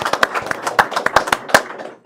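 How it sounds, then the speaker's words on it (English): Scattered hand claps from an audience at a school board meeting, a sparse run of sharp, separate slaps over about two seconds rather than a full ovation. "You guys can clap for him."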